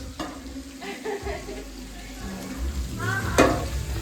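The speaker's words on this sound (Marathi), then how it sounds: "आता इथे तंदुरी बनत आहे." Tandoori food sizzles and fries at a farmhouse cookout, a close steady hiss with stirring scrapes and a sharper clatter near the end, no talking.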